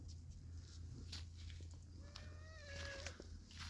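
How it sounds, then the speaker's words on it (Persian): Cats make quiet sounds close by: a low steady purr-like rumble runs underneath, with a brief rising meow near the end, faint overall and without clear speech. "جان چه خورخوری داری تو؟ پیشی های خوشگل من."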